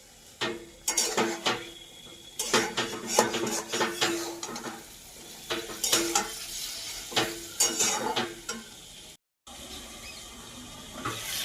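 Chicken being stirred in a pan after the lid comes off: bursts of loud metallic scraping and clanking over a bright sizzle, close up, with a brief silent gap near the end.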